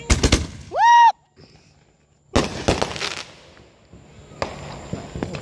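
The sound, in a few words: July 4th fireworks exploding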